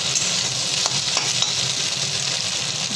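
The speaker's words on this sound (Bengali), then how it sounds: "মাঝে মাঝে নেড়ে চেড়ে নিচ্ছি" Fried egg is stirred in a wok with a little oil while making egg chowmein, a steady close sizzle of frying with a few faint scraping clicks of the spatula and no talking.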